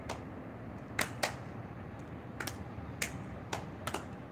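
Hands clap during a live morning yoga session, a series of sharp, quiet claps, some in quick pairs, with a soft room hiss between them and no talking.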